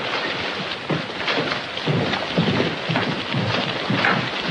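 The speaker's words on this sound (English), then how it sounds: "that depends on how long the storm lasts" A rainstorm with thunder roars steadily, with dense rain noise and repeated low rumbling swells, loud and continuous with no voices.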